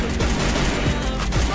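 Gunfire in the battle royale game Free Fire, a dense, loud burst of rapid shots with punchy low thumps running through the whole moment.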